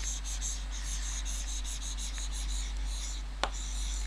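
Chalk scratching a blackboard as a teacher writes, a faint run of short rhythmic strokes over a steady low hum, with one sharp tap near the end.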